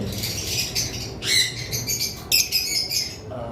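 A pair of lovebirds of high-quality colour varieties chirping up close, sharp high squawks and tweets in short bursts over a low background hum, with no talk.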